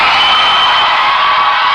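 A packed high school basketball crowd in the Riverdale vs Mariner game roars and yells in a dense, loud, unbroken wall of shouting aimed at a free throw shooter.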